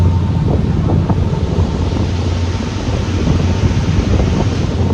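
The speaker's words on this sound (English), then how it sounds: "It's a bit windy, bit shitty weather." Strong wind buffets the microphone on a boat cruise in New Zealand, with a constant low rumble and roar, loud and unbroken from start to finish.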